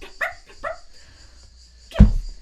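A person imitates a puppy barking during a tabletop D&D game session, with a few short yips early on followed by one louder, sharper bark near the end, close and fairly faint.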